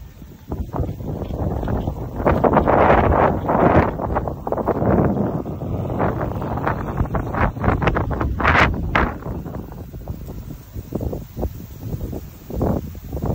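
Strong wind buffets and roars across the microphone in uneven gusts in open farm fields, with rustling underneath and no speech.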